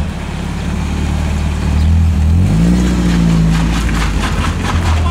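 A car revs hard while drifting around a shop lot, the engine note loud and close, climbing in pitch midway through as the throttle opens and holding a strained roar to the end.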